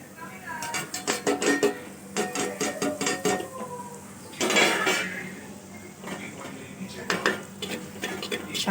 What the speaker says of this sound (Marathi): मिक्स करून घ्यायचं मसाले टाकल्यानंतर